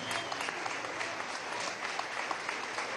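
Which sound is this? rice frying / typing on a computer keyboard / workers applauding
workers applauding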